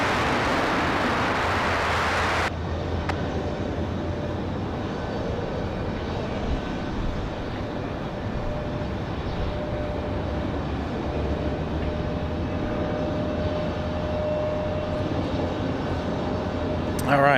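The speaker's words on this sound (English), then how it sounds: "hopefully you guys enjoyed that Air France 777 departure" An Air France Boeing 777 departs at night from Raleigh-Durham airport, its jet engines a loud, sustained roar that holds steady through the takeoff roll and climb, with a brief burst of radio chatter at the start.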